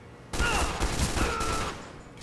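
Rapid gunfire from a pistol in Team Fortress 2, a quick run of close, loud shots with game sound effects around them.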